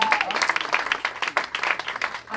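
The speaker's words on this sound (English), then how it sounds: "so one more round of applause for Mr. Mark DiCarlo." Audience applause for a comedian at a Los Angeles comedy show, a dense wash of many hands clapping at steady loudness throughout, with no talk over it.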